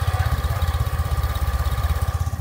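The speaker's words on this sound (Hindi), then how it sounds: "तो कुछ इस तरीके का इसका एग्जॉस्ट का नोट है" Exhaust note of a Hero Xoom ZX 110cc scooter idling close by, a steady low, pulsing putter with even rapid thumps throughout, no speech.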